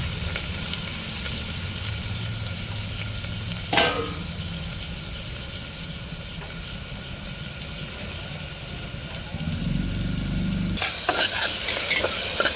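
Onions and green chilies fry in groundnut oil with a soft, continuous sizzle. A single sharp clink sounds early on, and a louder rush of noise comes near the end. No one speaks.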